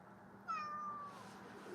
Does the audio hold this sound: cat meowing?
yes